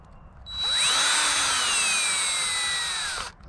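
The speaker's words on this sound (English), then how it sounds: "Now I'll take my drill, I'll center up my outlet on my box." A power drill whines steadily as it drives a screw into an electrical outlet box while an outlet on a commercial-grade extension cord is assembled: one loud, close run of about three seconds that slows slightly toward the end, with no talking.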